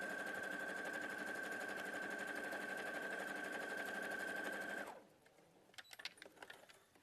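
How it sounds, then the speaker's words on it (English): A sewing machine stitches through fabric braid in a steady, loud, rapid whir that runs for about five seconds and then cuts off, followed by faint clicks and handling noises. "I'll sew this together really quickly so you can see"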